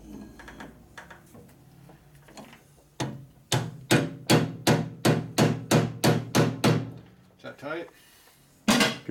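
A heavy hammer strikes a 1991 Harley FXR aluminum swingarm part about a dozen times in a steady rhythm, loud and close, with a few scattered clanks before and after.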